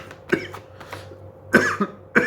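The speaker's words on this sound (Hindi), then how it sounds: "आपको पता है 3-4 दिन से ये चल रहा है खांसी" Someone with a lingering cough produces several short, harsh coughs close up, in irregular bursts separated by brief pauses.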